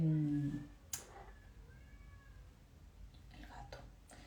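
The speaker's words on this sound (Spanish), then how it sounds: "El gato chillando como un loco" A cat meows loudly in a short, high-pitched cry at the very start, followed by a faint click and quiet background room noise.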